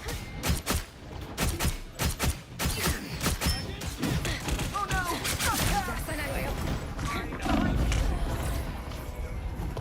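Rapid gunfire bursts in the hero shooter Marvel Rivals at a capture point, loud staccato shots at first, then giving way to a roaring, busy mix of ability effects and game noise with voices over it.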